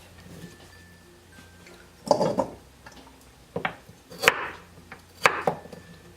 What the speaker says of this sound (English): I'm probably just going to be chopping them up in pieces like this